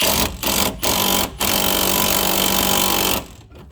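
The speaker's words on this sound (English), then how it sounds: "I'm going to use a 14mm socket on my impact just to break this thing free" An impact wrench with a 14mm socket hammers at a rusty front strut bolt on a high-mileage 2008-2013 Mazda3, loud and close, in several bursts with short breaks before winding down.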